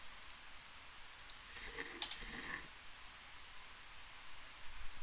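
Light mouse clicks at a computer running AutoCAD 3D modeling, a few faint, sharp isolated clicks over quiet room hiss.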